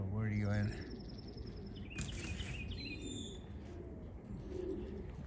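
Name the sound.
racing pigeons cooing after returning home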